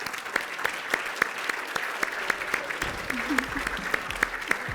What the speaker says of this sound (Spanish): yo les pediría otro aplauso para el doctor